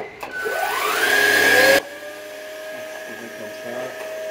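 A cordless stick vacuum cleaner whirs loudly and climbs in pitch, then abruptly cuts to a lower, quieter running hum that continues steadily to the end.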